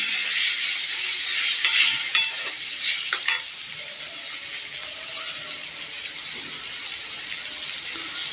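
Bitter gourd slices tossed into hot oil with fried spices sizzle loudly and steadily throughout, with stirring scrapes and a few sharper clinks against the pan.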